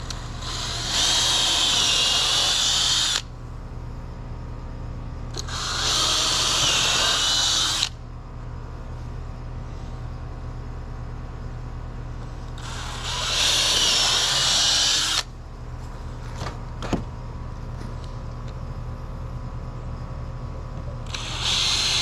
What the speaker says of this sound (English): with my drill bit and pre-drill these.